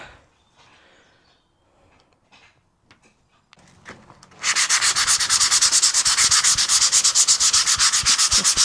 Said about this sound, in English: I'm going to give it a light sand down so the glue is more adhesive to it